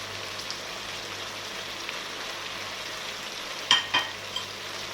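Hot peppers go into Alexandrian-style liver frying in a pan. A low, steady sizzle is punctuated near the end by a couple of sharp clicks and clatters from the utensil.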